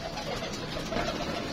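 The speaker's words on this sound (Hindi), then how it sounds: "माशाल्लाह कबूतर एक से बढ़कर एक कबूतर है।" Pigeons coo softly and repeatedly amid a busy, steady background of bird noise, with no talking.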